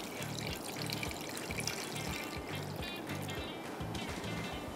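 Water pours steadily into a pot holding chicken drumsticks for boiling, a continuous close splashing trickle with a faint rhythmic low thumping underneath throughout.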